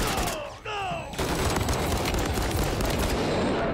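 Gunfire rattles in the Modern Warfare 3 video game as a dense, loud, continuous burst of shots that follows a brief tonal sound effect.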